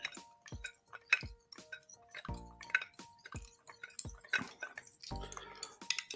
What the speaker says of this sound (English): I'm stirring my old fashioned.